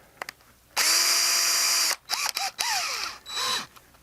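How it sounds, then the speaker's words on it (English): A power drill spins a cone wood splitter in a steady, loud burst of a bit over a second, then cuts out, followed by short whirring revs and clatter. "Put this back on the drill"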